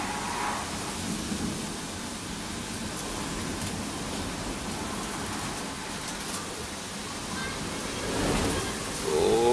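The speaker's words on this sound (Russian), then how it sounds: "Уже первые капли срываются." Rain starting to fall in Kyiv under strong wind: a steady, broadband hiss of wind and early drops that swells slightly toward the end, with no talk.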